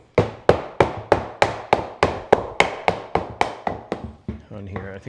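About fifteen sharp, evenly spaced knocks on wood sound as the roughed-out dovetail pieces of a wooden workbench with a shoulder vise are tapped apart with a mallet. The knocks slow slightly toward the end and a voice follows.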